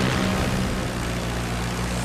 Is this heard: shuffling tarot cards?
no